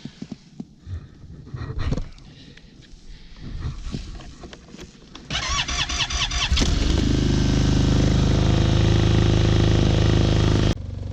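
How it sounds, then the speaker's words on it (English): An Arctic Cat Norseman 3000 snowmobile engine is cold-started in winter weather: a few cranking bursts and rattles, then the engine catches and settles into a loud, steady, close-up idle that runs on before cutting off. "We'll just try a cold weather start here."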